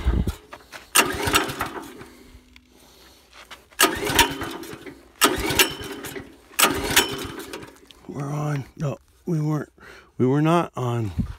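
A small gasoline engine on a digger starts in repeated bursts and runs on choke at a low idle, with someone talking between and over the engine runs.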